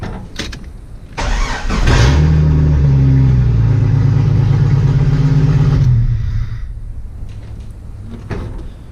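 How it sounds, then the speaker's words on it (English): Loud Scout 4.0 engine with its exhaust disconnected fires up and runs for several seconds, a steady harsh roar, then cuts off and goes quiet. "this thing will currently start and run just fine, even with all this unhooked"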